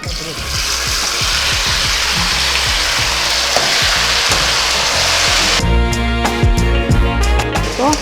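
Chicken hits a hot pan with round dried red chillies and curry leaves, setting off a loud, continuous close-up sizzle. A voice joins over the frying near the end.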